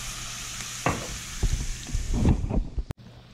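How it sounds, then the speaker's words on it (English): A hot pan is deglazed with a splash of wine, giving a steady sizzling hiss broken by scraping and stirring bursts that swell toward the end before cutting off abruptly; no voices. "Gonna take a little bit of wine and just gonna deglaze the pan."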